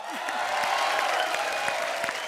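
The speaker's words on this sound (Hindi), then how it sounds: "शरद और नौरा के लिए जोरदार तालियां हो जाए।" Studio audience at a comedy show applauding and cheering for Sharad and Nora, a dense continuous roar of clapping with faint voices and music mixed in.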